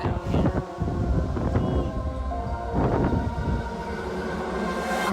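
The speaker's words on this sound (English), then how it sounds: "It is windy as shit out" Strong wind roars and buffets steadily against the microphone, a loud rumbling rush with gusty swells throughout.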